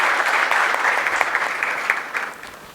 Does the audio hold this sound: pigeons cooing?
no